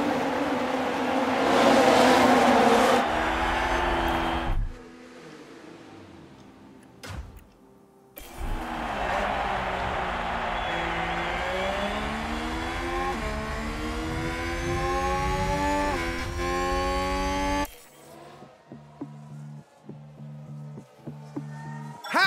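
Racing cars roaring off the grid at the start of the Miami Grand Prix in F1 Manager 22, engines loud and rising in pitch through gear changes, with brief gaps and a quieter stretch near the end.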